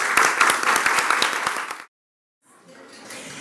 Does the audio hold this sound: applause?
yes